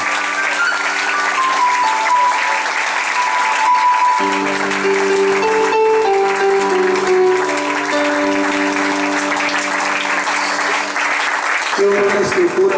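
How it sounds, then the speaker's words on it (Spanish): A church congregation at a Spanish-language youth service claps together in sustained, dense applause, loud and close, while music plays steadily underneath and voices carry over the clapping. "Recibe, Señor, las palmas."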